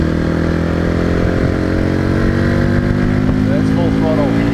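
A Hyosung GD250N motorcycle engine held at full throttle, a loud, steady, rising drone heard up close while riding.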